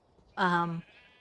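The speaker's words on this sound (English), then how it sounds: "We have a lot of sheep and only female goats." A single short sheep bleat from a modded Minecraft game world sounds clearly and close by, a brief wavering cry lasting under half a second against near silence.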